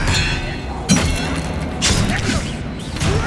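The Expelliarmus disarming spell cast in the video game Hogwarts Legacy, heard as sharp magical bursts and thuds with crackling whooshes, several hits spread across the moment, loud and close.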